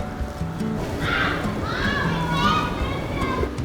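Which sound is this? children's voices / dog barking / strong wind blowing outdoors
children's voices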